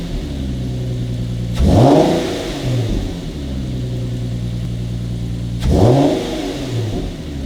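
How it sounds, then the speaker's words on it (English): A car on its factory air filters is revved twice, each blip a loud rising surge over a steady idle, about four seconds apart, with a faint intake draw and exhaust sound and no talking. "I did a couple revs just so you can hear kind of the sucking in of the exhaust"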